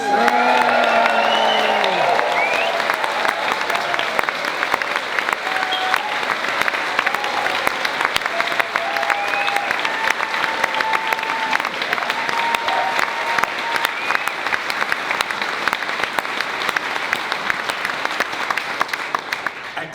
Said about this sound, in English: let's have a big round of applause and cheer for Matthew Wilgress.